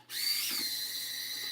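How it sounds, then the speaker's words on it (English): A handheld drill fitted with an auger bit whirs steadily while mixing ceramic glaze for cone 10 firing, a loud continuous high-pitched motor whine with a faint rising pitch, close by and alone. "This is a drill with an auger bit"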